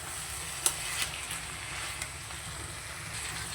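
Potatoes with poppy seed stirred and frying in a pan give off a faint, steady sizzle, broken by a few light clicks from the spoon.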